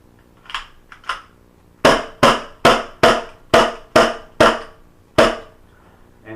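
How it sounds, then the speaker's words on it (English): A KWA USP Compact gas-powered airsoft pistol fires about eight sharp, loud snapping shots close by, evenly spaced after two softer clicks of racking or handling at the start, with no talk. "I'm going ahead and shoot it here for you a couple times."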